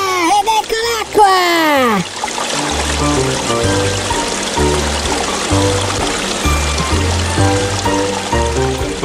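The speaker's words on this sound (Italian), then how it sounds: "Ah, ed ecco l'acqua!" A cartoon fire hydrant sprays water in a loud, continuous rushing gush that begins about two seconds in, after a rising whistle-like tone, and runs under music.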